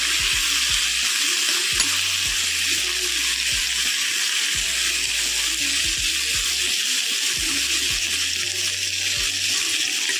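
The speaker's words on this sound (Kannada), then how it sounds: "ಸ್ವಲ್ಪ ಅರಿಶಿನ, ಇವೆಲ್ಲ ಎಣ್ಣೆ ಸ್ವಲ್ಪ ಫ್ರೈ ಆಗಲಿ" Ridge gourd chutney ingredients, cumin and turmeric, fry in oil with a steady close sizzle and hiss, broken by soft low knocks from stirring.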